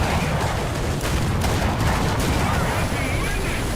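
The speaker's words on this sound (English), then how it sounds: "Well, that artillery really hurts." Dense artillery and gunfire in the War Thunder tank game around a T-34E STZ, a continuous loud roar of overlapping booms and cracks, close and sustained, with no clear talk.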